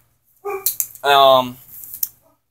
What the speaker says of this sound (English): my dog's gonna start barking